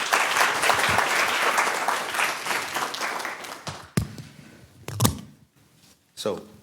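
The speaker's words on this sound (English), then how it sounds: "Can we get another round of applause, please?" Audience applause at an Atlanta community forum on small businesses, loud sustained clapping filling the room for about four seconds, then fading into scattered claps and a final short burst.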